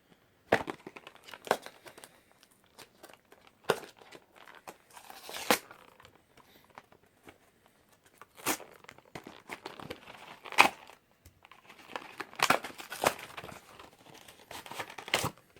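Packaging of a Yu-Gi-Oh! Emperor of Darkness structure deck being handled and opened, with close, intermittent bursts of plastic and cardboard crinkling and tearing separated by quiet pauses.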